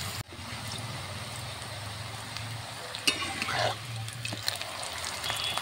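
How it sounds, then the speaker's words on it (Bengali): Fenugreek-leaf paratha laid into hot oil in a wok, giving a continuous close frying sizzle with a sudden burst of bubbling and a few scraping stir sounds. "তেল গরম হয়ে গেছে, এবারে আমি তেলের মধ্যে পরোটাটা দিয়ে দিচ্ছি।"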